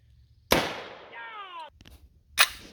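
A homemade can launcher fires a paint can with a single sharp, loud bang, followed by a brief whooshing trail, a short click, and a second sharp impact-like crack moments later.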